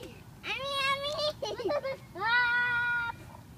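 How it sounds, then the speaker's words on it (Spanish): A tiny kitten stuck up high cries loudly in long, drawn-out meows, with a short choppy burst between two sustained cries, close by. "Este gatito ha estado gritando por 3 días."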